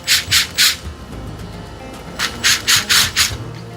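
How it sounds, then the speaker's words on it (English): A countersink bit drilling into wood for flush screws, two clusters of short grinding, rasping bursts, three quick ones and then five more, loud and close with no talk. "we're gonna drill a couple countersinks in here so the screws are flush with the bottom"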